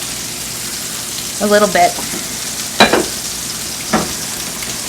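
Butter goes into a hot pan with olive oil and pork sausage, which hisses in a steady close sizzle. A few louder spatters and clatters cut through, and a voice briefly speaks.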